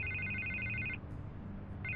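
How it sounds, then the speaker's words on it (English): A telephone rings in Batman: The Telltale Series, two bursts of electronic trilling separated by a short gap, over a low ambient drone. "I can't get the phone to stop ringing."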